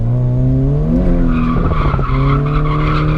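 A Nissan 350Z drifting lets out a loud, close tire squeal with a droning engine note, the pitch wavering and shifting midway as the car transitions before settling into a sustained screech.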